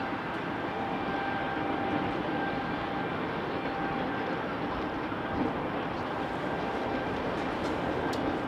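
An Alaska Airlines airliner in One World livery, heavily loaded, rumbles at Salt Lake City airport with a steady, broad engine roar and faint whine that holds level throughout.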